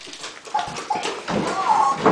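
Young puppies whimper and yip in short, thin cries, close and fairly loud, with a few brief whines in a row.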